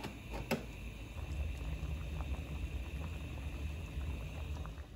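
Spaghetti cooking in a pot of boiling water gives a steady, soft, bubbling hiss with small pops, heard close and alone throughout.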